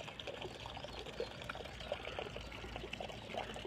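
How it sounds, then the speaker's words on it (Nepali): Water flows and trickles steadily into a fish pond, a faint continuous pouring and burbling close by with no voices. "कहाँबाट पानी आएको रहेछ"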